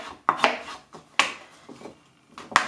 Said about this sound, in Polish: Kroimy na takie kawałki